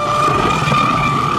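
A Pro Boat Blackjack 8S RC boat running at full throttle, its motor a loud, steady high-pitched whine that holds constant throughout the short burst, with no talking.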